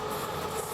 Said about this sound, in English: you can take the train, as we're doing now on our way to Manarola